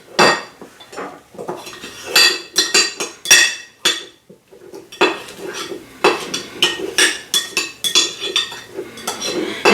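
Butter and parsley being mixed in a bowl with a utensil in a home kitchen, an irregular run of scraping, knocking and clinking strokes against the bowl, close and fairly loud, with short pauses between bursts.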